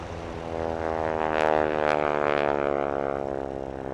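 Vintage propeller aircraft of the historic Army flight, one of a group retired from the Royal Canadian Air Force in 1946, taxi at an English air show; a steady, loud piston engine drone with buzzing harmonics swells briefly before holding level.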